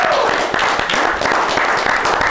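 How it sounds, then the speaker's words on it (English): A small group applauds, with steady overlapping clapping for a couple of seconds at moderate loudness, no voices over it. "Can we get a round of applause?"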